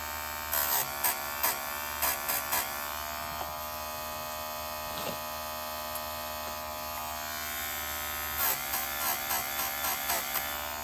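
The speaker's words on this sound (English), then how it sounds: "the grinder fits right down in there" A small electric grinder sharpening a chainsaw chain buzzes steadily up close, with bursts of short gritty contacts near the start and again toward the end as the stone touches each tooth.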